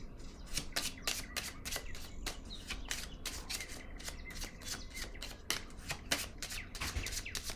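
Tarot cards are handled and shuffled in a quiet room, with a rapid series of crisp riffling flicks and soft card slaps repeating close up throughout.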